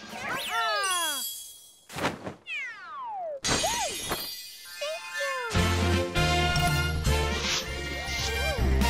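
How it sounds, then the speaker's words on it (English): A Super Bell power-up in the game Super Mario 3D World gives bright chiming jingles and a meow-like sliding tone. Game music and effects play over them in quick bursts. "I'm just gonna get my Cat Bell here"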